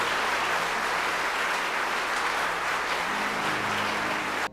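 Dense, sustained applause from a large crowd, steady and continuous throughout, with a faint low hum beneath.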